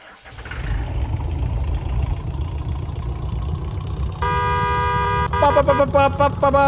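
A taxi's engine idles in the BGMI Lite mobile battle royale game, a steady low rumble running throughout, and a bright tonal musical jingle joins it in the last few seconds.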